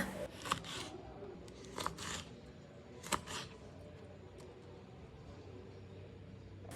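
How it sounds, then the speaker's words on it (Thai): A knife slices red chili diagonally on a cutting board in a home kitchen, a few quiet, crisp cuts spaced more than a second apart against a soft room hush. "หั่นพริกชี้ฟ้าแดงหั่นเฉียงแบบนี้นะคะ"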